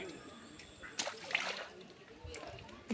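Fish splash and slosh at the surface as they fight over food tied to a bottle, with a few sharp splatters standing out over steady water noise.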